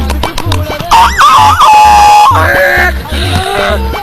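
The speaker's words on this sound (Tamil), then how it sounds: "இது என்ன சத்தம் சேவல் சத்தம்" A rooster crows in one long, drawn-out call, rising and then holding, over loud rhythmic music with a thumping beat.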